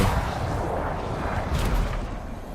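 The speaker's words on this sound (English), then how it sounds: "I love the explosions, too." Continuous rumbling blasts and booms of explosions in the video game Anthem overlap in a dense, loud barrage with no pauses.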